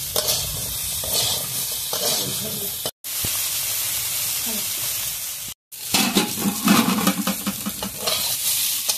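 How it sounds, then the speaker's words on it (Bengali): Pointed gourd fries in hot oil in a wok with a loud, close sizzle and frequent stirring scrapes. The sound cuts out briefly twice before the crackling surges again. "পটল আমার লাল লাল করে ভেজে নেওয়া হয়ে গেছে।"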